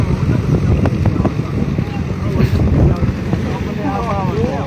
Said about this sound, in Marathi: ती बघा बोट बघा कशी वावत येत आहे जे इंजिन बोट आहे